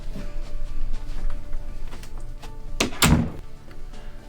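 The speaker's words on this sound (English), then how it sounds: "Shut the door." An office door being shut, a dull thunk near the end over a murmuring room background, fairly close and brief with no talking.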